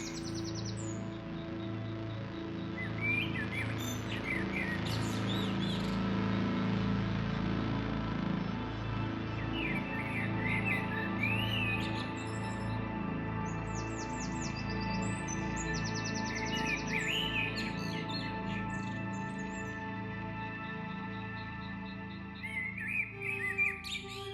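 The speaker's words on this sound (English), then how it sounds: "Nightingales spin liquid gold beneath the hawthorn tree." Nightingales sing beneath a hawthorn tree at midsummer. Bright, varied chirps and liquid trills come in repeated bursts across the whole stretch, fairly close and clear, over a soft low ambient rumble.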